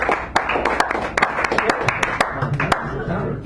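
Scattered hand claps from a small audience at a café poetry reading in San Francisco ring out irregularly while a person keeps talking over them.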